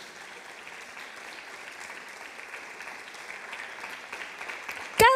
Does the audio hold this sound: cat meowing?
no